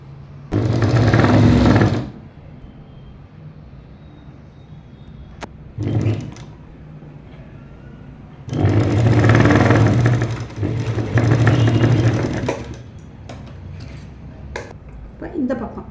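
A sewing machine stitches straight pant fabric in short bursts of rapid, steady whirring, close by, separated by quiet pauses with a few light clicks.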